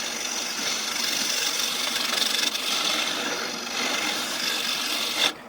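A wood lathe turning an ultra thin bowl about 1 mm thick, giving a steady, loud rasping hiss of the tool cutting the spinning wood, continuous throughout and ending in a short, sharper scrape.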